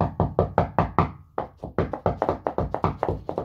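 Rapid knuckle tapping on a wall near a Termatrac T3i motion sensor, a dense run of close, dull knocks in irregular quick bursts with no voices.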